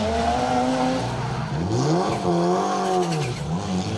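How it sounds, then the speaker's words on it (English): A Triumph TR7 rally car with a Rover V8 engine races at Cadwell Park, its loud, close engine revving up and down through rising and falling pitch sweeps, with tire squeal as it passes. "bringing the muscle car soundtrack of that British/American Rover V8 inside that big old bonnet on the TR7 to Cadwell Park"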